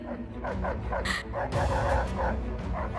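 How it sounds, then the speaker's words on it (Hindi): Dogs bark and yip in quick repeated bursts, fairly close and loud, with whimpering notes mixed in. "ये कुत्ते इतना भौंक क्यों रहे हैं?"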